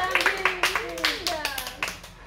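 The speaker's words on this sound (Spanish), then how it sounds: "¡Bravo! ¡Otro aplauso!" A small group claps in sharp, uneven bursts during a surprise celebration, with excited voices talking over the clapping the whole time.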